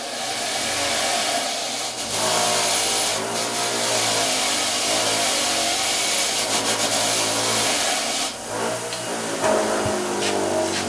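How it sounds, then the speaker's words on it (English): Grinder cleaning up a piece of steel bent with heat from a TIG torch, a loud continuous abrasive whine and rasp that runs steadily throughout, up close with no talk. "let me just hit it on the grinder, and you can see it ends up looking clean."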